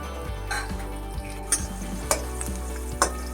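Cumin, garlic, asafoetida and green chili sizzle steadily in hot oil in a pan, a close, even hiss. A few sharp clinks of a spoon on the metal cut through it, with no talking.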